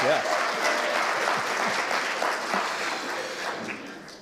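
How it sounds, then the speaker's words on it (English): Steady applause from a live event audience, a dense wash of clapping that holds for several seconds and slowly tapers off. "you can applaud that, absolutely, yes"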